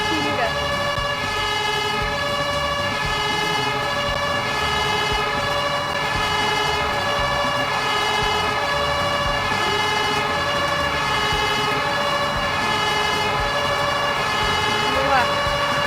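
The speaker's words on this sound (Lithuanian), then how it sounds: "Pavogiau gaisrinės mašiną." Wailing fire truck siren from the emergency-services video game Emergency, set in Emden, sounding continuously and loudly throughout over a low vehicle drone, with no talking over it.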